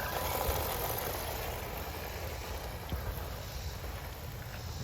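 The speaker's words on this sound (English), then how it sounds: "the Typhon Grom on dirt. So let's see how it handles" Typhon Grom RC car driving on a dirt road at half throttle, a faint, steady motor whine and rumble over wind and outdoor noise, fairly distant.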